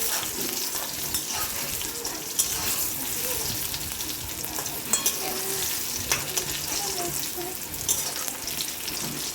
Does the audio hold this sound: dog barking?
no